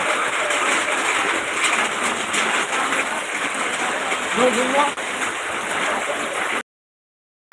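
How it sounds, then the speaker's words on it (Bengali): Heavy rain pours steadily in Chattogram, a dense, loud hiss that runs unbroken for several seconds before cutting off to silence near the end. "এখনও বৃষ্টি পড়ে মুসুলধারে বৃষ্টি"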